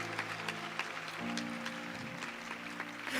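A congregation applauds during a Catholic church service, a steady, dense clatter of many clapping hands filling the space at moderate level for a few seconds.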